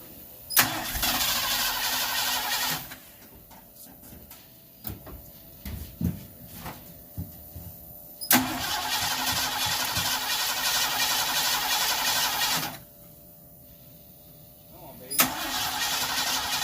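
A Ford Ranchero engine being fed fuel cranks and catches, running loudly for a couple of seconds, dying, then restarting in repeated bursts with quieter gaps of clatter and talk between.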